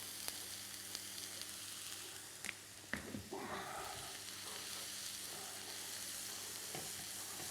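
Courgette and peppers sizzle steadily in oil in a pan, a constant close frying hiss with a brief stir or clatter partway through and no voices.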